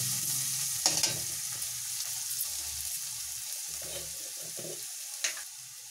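Garlic, ginger and green chilli fry softly in a pan, a low sizzle broken by a few sharp utensil taps and scrapes; close and fairly quiet, with no talking.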